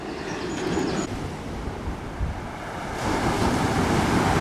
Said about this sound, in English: So they've got the sound of the sea.